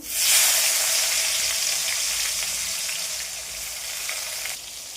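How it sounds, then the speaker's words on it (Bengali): Chopped tomato dropped into hot oil left from frying potatoes, bursting into a loud close sizzle that gradually settles and softens over a few seconds, with no voices. "ওই যে আলু ভাজা তেল ছিল ওটার মধ্যে আমি দিয়ে দেব টমেটোর কুচি"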